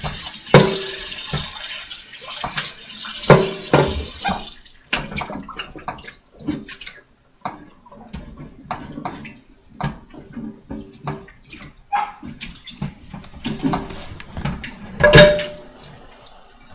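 A pan washed and rinsed under running water, with a loud steady tap stream at first, then splashing, clattering and intermittent water sounds close by.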